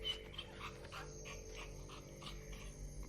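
A dog in the video game Silent Hill 2 Remake whimpers and pants in soft, faint repeated bursts over a low steady game hum.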